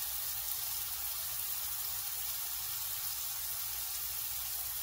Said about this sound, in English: So I'm going to let this sear real good.